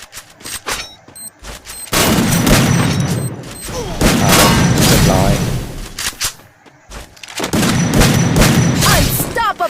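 Loud bursts of explosions and rapid gunfire from a shooter video game, coming in dense waves with short lulls between them, while players talk and shout over the action.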